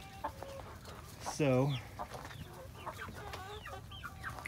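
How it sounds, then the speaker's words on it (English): Chickens cluck softly and steadily nearby, while a young rooster lets out a short, strained crow. A voice speaks briefly in the background. "I know some of them are starting to crow"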